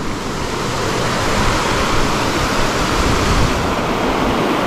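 Waterfall on the Higashi-Kurosawa mountain stream, a loud, steady rushing roar of falling water close by with no break.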